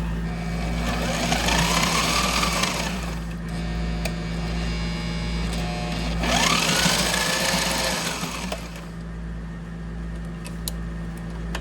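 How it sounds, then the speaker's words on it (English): A sewing machine stitches velcro and pockets on a garment, running in two close, steady whirring bursts of about three and two seconds, separated by a pause, over a constant low electrical hum. "lower the presser foot, hold my threads back."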